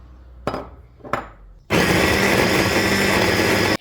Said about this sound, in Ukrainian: Відправляю сюди масло і буду збивати.